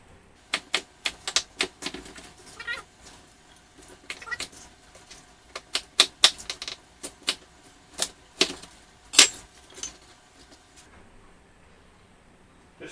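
A knife quartering an unpeeled onion on a cutting board for stock, producing a series of sharp, close chopping knocks in an irregular rhythm, with quieter handling sounds between the cuts.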